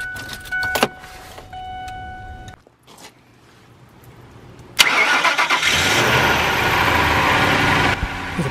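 A Honda Pilot's engine is cranked with a remote crank switch wired to the starter solenoid. A few short clicks and whirs come first, then a brief lull, then a loud catch as the engine fires and settles into a steady, close idle.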